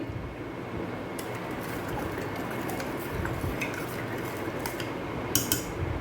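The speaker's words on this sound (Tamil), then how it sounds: "இதுக்கு தேவையான சர்க்கரையை போட்டு நம்ம வந்து கரைச்சி எடுத்துக்கிடலாம்" A spoon stirs sugar into chilled milk for a sharbat, giving faint, steady clinks and soft swishes in a quiet kitchen, with a few sharper taps near the end.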